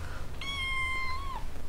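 A cloned kitten gives a single clear, drawn-out meow that rises and then trails off, fairly faint over a quiet indoor background.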